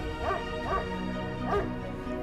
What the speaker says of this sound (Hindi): सो जाओ नूर, मैं पहले कुत्ते के भौंकने से बहुत परेशान हो रही हूँ